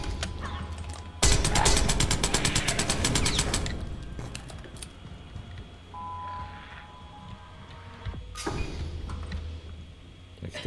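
A rapid automatic burst rattles off in the zombie shooter game The Last Stand: Aftermath, a fast, loud string of shots lasting a couple of seconds, followed by quieter game sounds and a second short volley near the end.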